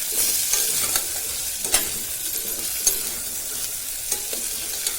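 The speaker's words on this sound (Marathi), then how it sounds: "हे बघा असं खाली वर करत राहायचं" Stuffed okra frying in oil in a pan, a bright steady sizzle close up with periodic scrapes and taps as the pieces are stirred and turned over, no voices.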